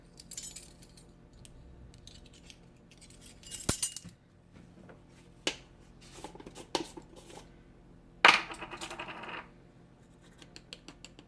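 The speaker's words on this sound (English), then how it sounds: "So I'll grab my teaspoons." Metal measuring teaspoons clink and scrape against each other in a kitchen while baking banana bread, a few sharp scattered clinks with a brighter rattle near the end, no talking.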